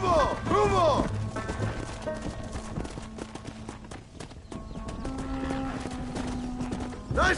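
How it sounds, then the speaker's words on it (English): Horses clip-clop along at a run while herding in the Red Dead Redemption video game, with hoofbeats and a whinny near the start, under shouted game dialogue and ambient sound. "Go on! Hit your horse and wait for me by the stable."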